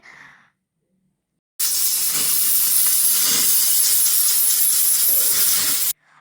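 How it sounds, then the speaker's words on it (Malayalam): Pressure cooker venting steam, a loud steady hiss that starts abruptly, holds evenly for about four seconds close by, then cuts off sharply. "അപ്പോഴത്തേനും കുക്കറൊക്കെ ഒന്ന് സ്റ്റീം അടിച്ച് സെറ്റായി"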